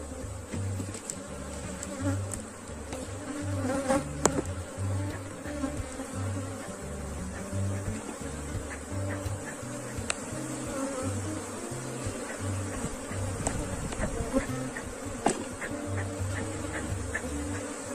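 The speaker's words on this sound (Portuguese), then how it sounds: "Um enxame super populoso e bem controlado." A dense, populous honey bee colony buzzes inside an open hive, a steady close-up hum that fills the whole stretch with no voices over it.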